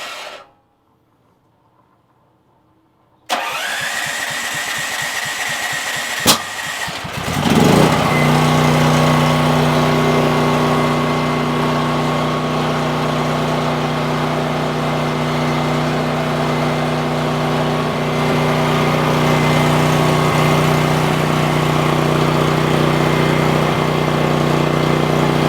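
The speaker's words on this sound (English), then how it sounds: "So this is designed to wait a few seconds and start again." A dual fuel home generator starts after a brief silence: the starter cranks, the engine catches and settles into a loud, steady, droning hum that runs on unbroken.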